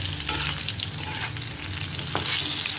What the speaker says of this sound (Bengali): দিয়ে আলুটা একবার সুন্দর করে ভেজে নিই